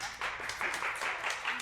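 Sparse, scattered clapping from a small studio audience on a dating show, a thin patter of hands that never builds into full applause over under two seconds.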